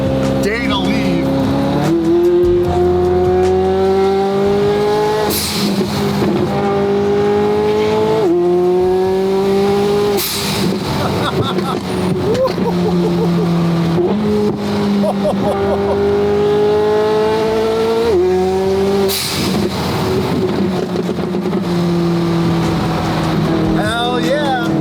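A 720 GTR sports car cruising on the road, its engine droning loudly and continuously with repeated rises in pitch as it accelerates through gears, interrupted by brief shift breaks.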